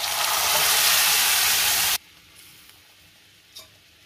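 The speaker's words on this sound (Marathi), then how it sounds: "आता आपल्याला त्यामध्ये डाळ घालायची आहे." Moong dal goes into a pan of onions frying to red-brown and gives a loud, bright sizzle for about two seconds. The sizzle then drops sharply to a faint hiss, with a small clink near the end.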